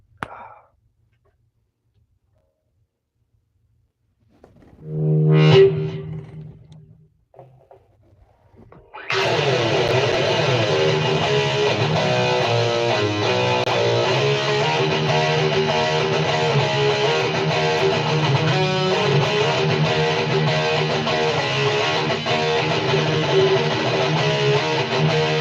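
An electric guitar with heavy distortion plays a riff, starting after a short quiet stretch and a brief plucked swell, then a loud, sustained, chugging distorted tone running steadily to the end.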